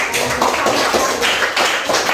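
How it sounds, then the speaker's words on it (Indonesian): Dense, loud clapping from a group, a continuous patter of hand claps with no pauses. "Kita harus tepuk tangan untuk Junaidi"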